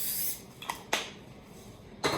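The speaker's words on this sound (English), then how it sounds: "So I use my cooking spray just to help." Cooking spray hisses onto a foil-lined pan for meatballs, with a sustained bright spray at the start, two short bursts in the middle and a final burst at the end, close and fairly quiet.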